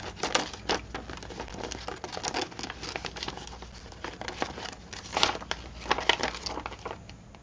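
Scissors cutting a magazine page, a close run of crisp snips and rustling paper crinkles in uneven bursts, fairly quiet and without talk.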